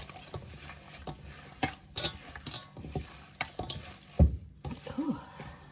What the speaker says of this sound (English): we're just gonna mix it up real good